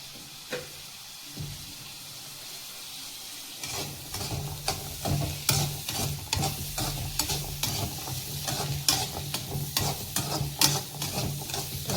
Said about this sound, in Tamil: இதை நம்ம தேங்காய் எண்ணெய் ஊற்றி நல்லா வதக்கிடணும்